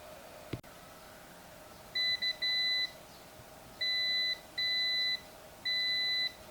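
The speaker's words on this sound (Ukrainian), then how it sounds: "Це звук згорівшого мосфета." Four electronic beeps from an e-bike controller with a burned MOSFET, each about half a second long and high-pitched, with short gaps between them and a sharp click just before. The hum around them stays quiet.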